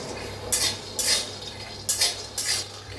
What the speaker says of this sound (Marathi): शेंगदाणे भाजून घेऊया।